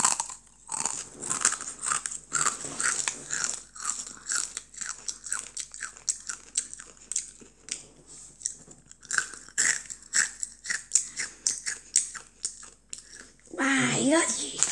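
A child crunches through a dry ramen snack, loud crisp bites and chewing in quick irregular bursts close to the mic, with brief child speech at the end.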